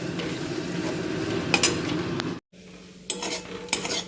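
Spatula scraping and stirring a vegetable mash in a pan on a low gas flame, soft sizzle beneath; a short silent gap splits the clip, then sharper metal scrapes and clinks resume close up, no voices.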